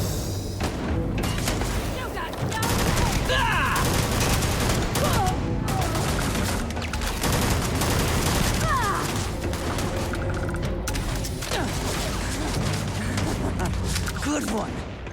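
Dense gunfire rattles almost nonstop in Starfield combat, with rapid bursts, heavy booms and mechanical clatter. It stays loud and close throughout.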